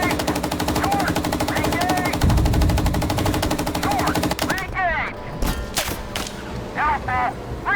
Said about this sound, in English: there are tracer fire or autocannon fire coming from back there